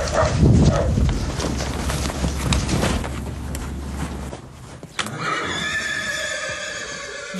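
A purebred Arabian endurance horse, one of a herd of about twenty, lets out a loud, close, quavering whinny after a stretch of rustling and shuffling hooves.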